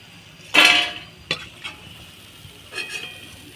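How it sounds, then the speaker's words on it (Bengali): Green jackfruit popcorn pieces frying in hot oil, a close burst of sizzling and stirring at the start, then a couple of short utensil scrapes and a softer sizzle later, with no voices. "আমরা এটাকে এইটি পার্সেন্ট ভেজে তুলে নেব"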